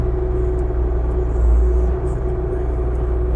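A 2016 Bobcat T650 skid steer runs with a deep, steady diesel rumble and a constant low drone, loud and close, swelling briefly midway, without any speech.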